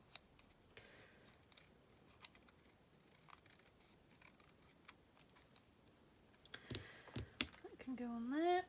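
Scissors snip out a stamped paper piece for a card, soft scattered close crisp cuts over quiet room noise, with a louder rustle and a brief voice near the end.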